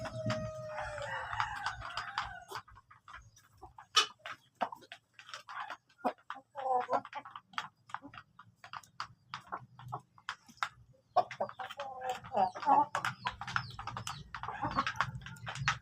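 Breeder chickens eat feed on a farm while they cluck and a rooster crows now and then, heard alongside scattered pecking and scraping taps at close range and fairly faint.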